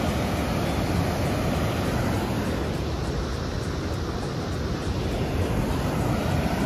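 Steady rushing water of a river flowing right beside a riverside campsite near a temple, a continuous broadband roar heard close and loud with no voices.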